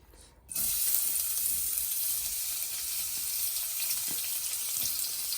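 Chopped onion hitting hot oil in a pan for chilli chow mein, a sudden loud hiss that settles into a steady, close sizzle of sauteing with faint clicks, no talking.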